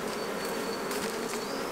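Honeybees buzzing around an open hive in dim light, a dense steady hum close to the microphone with no one speaking.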